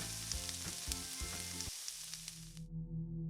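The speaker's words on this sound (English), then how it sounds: "Take your nuggets and dip it into the bowl and place them into the pan. Let them cook through until the nuggets floats to the surface." Chicken nuggets fry in a pan of oil, giving off a loud, close, steady sizzle with a few clunks of the pieces and pan early on, and the crackle carries on after a brief drop.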